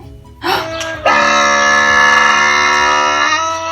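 A camel's call: a short rising groan followed by a long, loud, harmonic bellowing drone that holds steadily for several seconds, close and alone.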